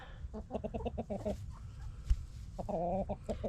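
Chickens cluck at close range in a backyard coop as two flocks are being merged, with one rooster among them. Bursts of short, rhythmic clucks come in clusters, with a sharp knock partway through and fuller clucking near the end.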